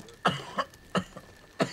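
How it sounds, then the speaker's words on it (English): Four short, sharp coughs spaced unevenly, close and fairly quiet, with brief silences between them and no talking. "You hear that cough?"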